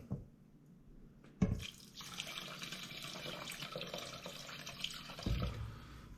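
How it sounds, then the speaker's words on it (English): Liquid such as chicken stock pours steadily onto rice in a pot, a continuous close splashing rush that starts after a brief bump and runs several seconds. "I just take and pour in my liquid."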